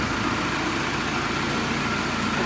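A tractor engine idles in a steady low rumble without a break, close and loud, with no voices over it.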